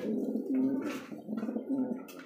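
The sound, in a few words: toy Lahori pigeons cooing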